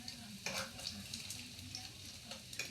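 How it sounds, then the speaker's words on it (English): Bacon strips sizzling faintly in a frying pan as they are carefully scooped up, a soft steady fry broken by a few light scraping and clinking touches. "So what we want to do, very carefully, scoop up the bacon."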